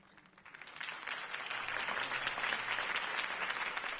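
A crowd at a political campaign rally in a Batman video game breaks into applause, a dense clapping roar that swells from quiet to full and holds steady.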